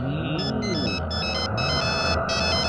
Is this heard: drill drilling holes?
no